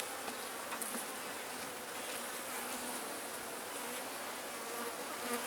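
Honey bees buzz in a weak, struggling beehive, a soft, steady drone close by with no one speaking.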